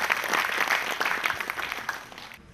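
An audience at a college day event applauds to welcome a female professor to the stage, a dense, steady burst of clapping from many hands that tapers off near the end, with no speech over it.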